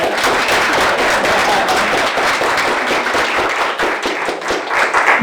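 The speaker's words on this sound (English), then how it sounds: "You can give her a round of applause." Dense, steady applause from an audience at a community coalition awards event fills the room, a thick wash of many hands clapping continuously for about five seconds.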